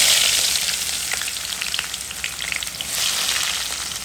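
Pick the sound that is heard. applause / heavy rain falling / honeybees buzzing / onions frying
onions frying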